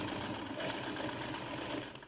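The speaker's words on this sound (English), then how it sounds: "Then bring the footer down on it and continue sewing." A sewing machine runs continuously as it stitches a seam, a fast steady mechanical whir with rapid needle clatter, close and even, easing off at the end.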